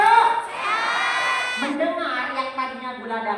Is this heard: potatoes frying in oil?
no